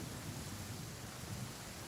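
Rain falls in a steady, soft wash with a low thunder rumble beneath it in the Genshin Impact video game, faint and continuous, with no voices.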